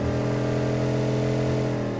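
Motorcycle engine revving steadily in a video game, a continuous loud droning hum with strong low harmonics and no break across the short stretch.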